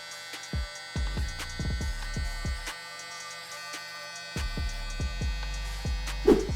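A Gamma Evo X hair trimmer hums close by during a fade haircut, switching on and off in repeated bursts with a steady buzzing tone and brief pauses between passes.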